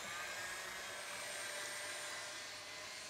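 An electric whisk whips egg whites with cream of tartar for a meringue, a steady loud high-pitched motor whir that runs unbroken throughout, with no talking.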